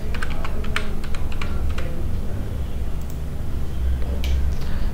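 Fingers typing a folder name on a computer keyboard, a rapid run of crisp key clicks close up that thins out and then returns with a final short flurry, with no speech over it.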